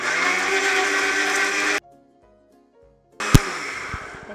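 A mixer grinder whirs loudly while blending a palak and strawberry smoothie, stops abruptly into near silence, then starts again with a sharp clunk and renewed spinning.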